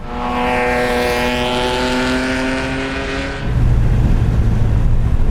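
A loud E46 BMW engine with aftermarket headers roars close by on a race track, its pitch holding high and then dropping into a deeper, rougher growl as the car accelerates away.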